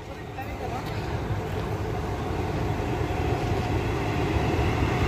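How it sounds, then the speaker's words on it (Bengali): The Rampurhat–Howrah Express pulls into Prantik station with a continuous low rumble and rolling rail noise that holds steady throughout. A platform crowd murmurs underneath. "রামপুর আর হাওড়া এক্সপ্রেস 5:30টার সময় প্রান্তিক ঢুকছে"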